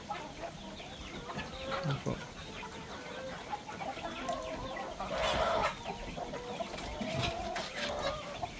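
Farm chickens clucking softly and steadily while they drink water laced with molasses, with a brief louder flurry of calls midway, a goat close by, and a few words of speech near the end.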